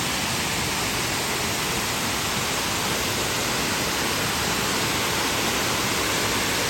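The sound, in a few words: waterfall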